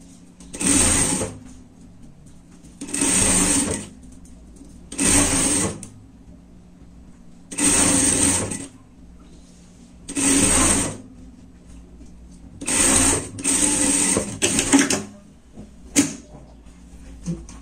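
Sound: sewing machine stitching jacket lining with black thread

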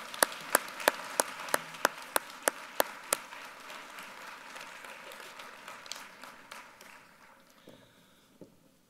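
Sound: applause

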